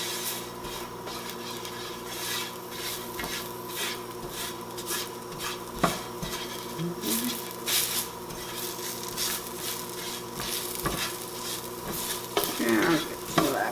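Two small garlic cloves crisp in a pan with lentils, rice and caramelized onions, giving a steady close sizzle punctuated by repeated scraping stirs of a spoon.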